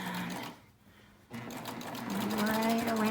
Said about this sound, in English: my cover stitch will just come right along the edge of this pocket